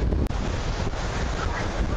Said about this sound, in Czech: Fouká silný vítr.